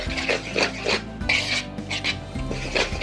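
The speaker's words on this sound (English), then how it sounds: "4 cups of all-purpose flour. And we're gonna mix it with 2 teaspoons of salt. Give it a good stir." A spoon scrapes and rubs through dry all-purpose flour and salt in a bowl, in a steady rhythm of gritty, rasping strokes heard close up with no voices.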